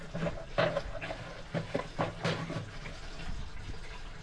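Water is poured and splashes while dishes are washed in a home kitchen, faint irregular gushes and trickles with a few louder spills, close by and otherwise quiet.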